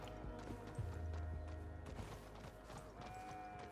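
Horse hooves clip-clopping in the video game Elden Ring, a quick run of thudding footfalls with a brief whinny-like rise, set against a dense game soundtrack and effects.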